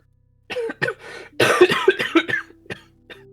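A voice performing a character coughing in a Warrior Cats roleplay: a few separate short coughs, then a louder cluster of rasping coughs trailing into a strained hum, close and clear.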